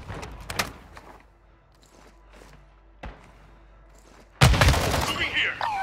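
Gunfire in Call of Duty Warzone DMZ, a sharp burst of shots at the start, an isolated crack midway, then a heavy loud volley near the end, with quiet stretches between.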